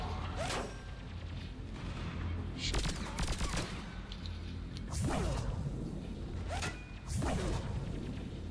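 Gunfire in the Mass Effect 3 video game fills the scene: bursts of sharp shots and whooshing weapon blasts at irregular intervals over a constant low background rumble, moderately loud, with no talk.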